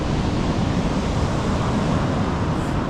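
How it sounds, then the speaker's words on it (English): Ocean waves crash on the shore at Sandwich Harbor, Namibia, beside huge sand dunes, making a loud, continuous roaring surf mixed with wind noise and no one talking. "crashing waves on the other"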